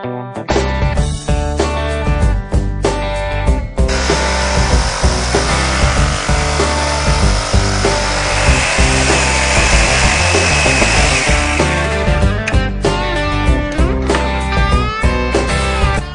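A power saw cuts RV trim in a garage, a loud sustained whine lasting about eight seconds between shorter clattering handling and tool noises, heard close with no talking.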